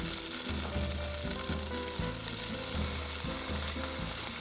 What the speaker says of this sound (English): Let's get this hot oil. Now I will cook shrimps.